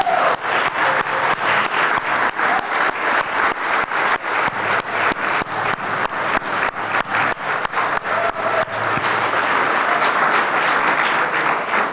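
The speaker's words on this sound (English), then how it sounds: "Let's give them a round of applause," Sustained audience applause fills a banquet hall at a chamber of commerce awards banquet as award nominees stand, a dense, steady wash of many clapping hands holding loud and even for the whole stretch.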